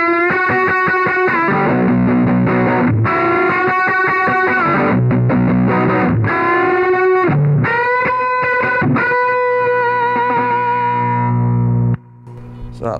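Overdriven electric guitar run through a Timmy overdrive pedal stacked with another drive pedal, playing loud sustained chords and ringing single notes with a thick, saturated tone for about twelve seconds, then cutting off abruptly.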